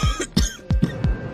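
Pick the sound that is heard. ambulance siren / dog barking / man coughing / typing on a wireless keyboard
man coughing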